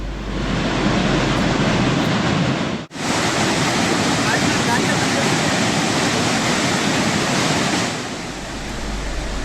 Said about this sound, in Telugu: డ్యాం 10 గేట్లు 10 అడుగుల మేర ఎత్తి నీటిని వదులుతున్నారు.